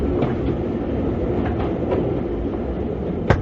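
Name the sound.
moving train in a film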